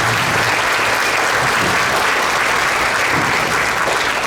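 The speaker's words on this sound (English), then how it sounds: "give a round of applause to perhaps the last 7th and 8th grade combined band" An audience claps for a combined 7th and 8th grade school band, with sustained, loud applause filling the room from start to finish.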